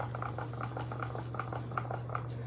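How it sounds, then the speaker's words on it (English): A stick stirs resin in a cup, making soft, close, regular scraping and clicking strokes in a steady rhythm over a low constant hum, with no talk. "So this has to be stirred for 3 minutes."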